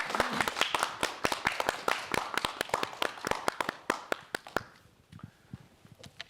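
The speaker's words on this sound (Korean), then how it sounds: "박수" An audience at a Korean lecture on dementia prevention claps steadily for several seconds, crisp and close. The applause thins out and stops near the end.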